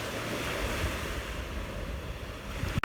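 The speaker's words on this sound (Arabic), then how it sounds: "قعدنا دلوقتي قاعدة حلوة على البحر، ربع ساعة حلوة قوي" Sea waves wash steadily onto the shore, a broad continuous roar of surf mixed with wind buffeting the microphone, with a brief knock right at the end.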